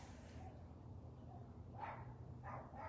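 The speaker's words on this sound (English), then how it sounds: "I don't be wanting to hear all these motherfucking dogs." Neighborhood dogs bark from a distance, with a few short barks near the end over a low rumbling background.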